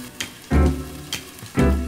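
Burger cutlets frying in a pan, with a bright sizzle that swells in two loud bursts, most likely as each patty meets the hot oil, and softer crackling between them.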